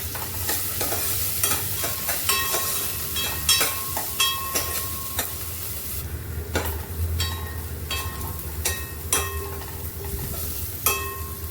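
Chopped onion and crushed garlic cloves frying in hot oil in a pan while cooking a Konkan kulith pithi, a steady loud sizzle with repeated clinks of a spoon stirring throughout, no voices.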